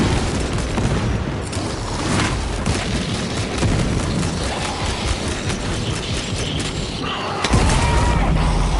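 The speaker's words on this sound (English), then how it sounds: "Frag grenade deployed." A frag grenade detonates amid the dense, continuous din of combat in the Warhammer 40k game Space Marine II, with clanking mechanical noise throughout and a sharp, loud blast bursting out near the end.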